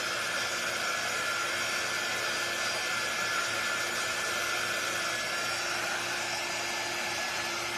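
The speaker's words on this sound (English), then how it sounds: "I'm just drying this part real quick" A hair dryer blows steadily on part of a handmade Nativity craft, a constant close whooshing hiss that stays level throughout with no pauses.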